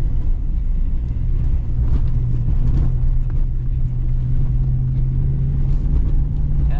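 A Ram TRX pickup drives across sand on low-pressure tires, its engine and road noise forming a loud, steady low drone with wind rush inside the cab.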